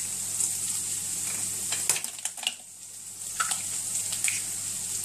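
Ground beef mince browning in a pan with salt and chili flakes added, a steady close sizzle with scraping stirs and a few clinks across the clip.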